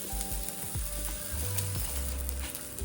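Aloo cutlets packed with vegetables fry in oil in a pan, giving a loud, steady sizzle broken by a few scraping clicks as they are stirred or moved.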